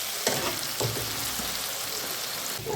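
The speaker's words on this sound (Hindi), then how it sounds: "प्याज के साथ अदरक लहसुन को थोड़ा ब्राउन होने देंगे यहाँ पर।" Onion, ginger and garlic fry in a pan, a steady close sizzle with a few brief stirring scrapes and no voices.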